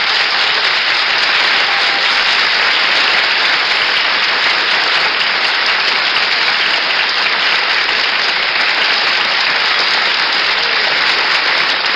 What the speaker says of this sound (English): That applause is for you, Joe